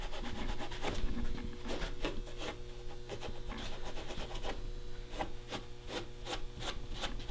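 Paint overspray is rubbed off the skin of a mounted archery buck deer head, giving repeated close scratchy rubbing strokes in an uneven rhythm over a low steady background hum.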